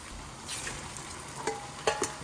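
Chicken sizzles and crackles steadily in a hot pan, with a few sharper pops and scrapes near the end.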